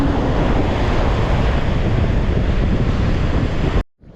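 Ocean surf at Sunset Beach during an eclipse evening shelling outing sounds as a loud, steady roar of waves and wind buffeting the microphone, continuous with no talking, cutting off abruptly at the end.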